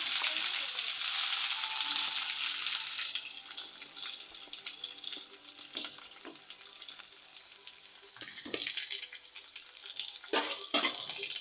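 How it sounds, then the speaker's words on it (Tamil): Chopped onions hit hot oil with fenugreek seeds and curry leaves for a tamarind-free kuzhambu, giving a loud steady sizzle at first that thins to a softer crackle with scattered stirring scrapes and clinks near the mic. "இப்போ நம்ம கட் பண்ணி வச்ச வெங்காயத்தையும் போட்டுக்கலாம்"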